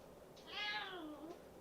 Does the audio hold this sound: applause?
no